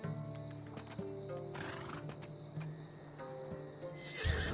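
A horse in Assassin's Creed Odyssey whinnies and snorts over steady clip-clopping hooves, close and clear, with a louder thump near the end.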